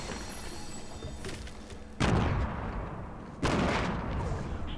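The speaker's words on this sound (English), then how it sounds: "Oh, God, they're all shooting down here." Gunfire in Fortnite Battle Royale, with two loud heavy blasts landing about a second and a half apart over a steady background of game noise, with no talking.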